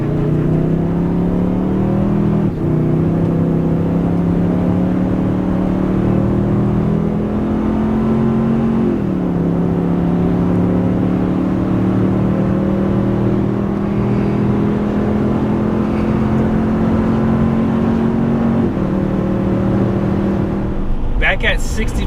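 A 2023 Toyota Tundra Limited pulls hard from a standstill to 60 mph while towing a trailer, its engine droning loudly and climbing in pitch through several gear shifts, with people speaking over it.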